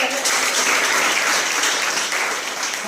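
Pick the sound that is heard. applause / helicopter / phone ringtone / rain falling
applause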